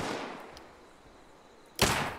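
A single sharp, loud rifle shot from a scoped weapon in a survival video game bursts out near the end after a stretch of quiet ambience, followed by a brief decaying tail.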